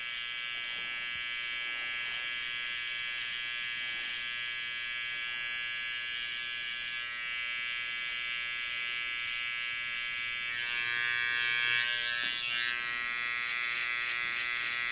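An electric beard trimmer shaving away hair below a sculpted beard line at a barber's chair, giving a steady high-pitched buzz that runs throughout and swells louder near the end, with no talking.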